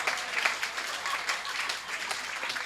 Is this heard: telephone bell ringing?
no